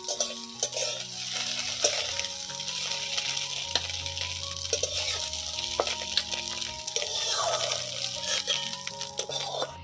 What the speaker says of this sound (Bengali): ডিমটাকে ঠিক এইভাবে ঝুরা করে নিতে হবে।